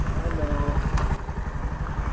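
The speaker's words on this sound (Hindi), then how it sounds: "और उसके बाद एंट्री हुआ सूरज और बाइक" Motorcycle arriving on a street, its mid-pitched engine puttering and revving steadily close by, partly under people talking.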